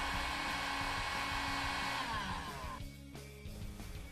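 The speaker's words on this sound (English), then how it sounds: "Using a low heat setting on a heat gun, heat the end of the tape" A heat gun on its low setting warms the end of a wrap tool tape, producing a steady whirring blow that runs continuously and dips briefly near the end.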